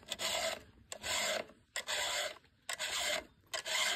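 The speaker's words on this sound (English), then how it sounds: "Instead, we file." A hand file rasps across a chainsaw chain on a horse-logging job, four steady, evenly spaced strokes, each a close, gritty scrape with brief pauses between.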